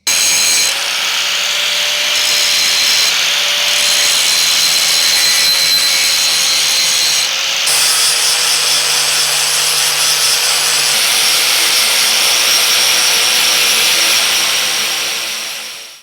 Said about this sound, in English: I'll have to grind that down.